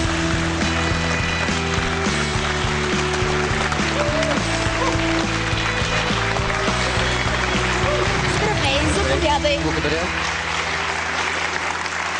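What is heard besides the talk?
studio audience applause for a guest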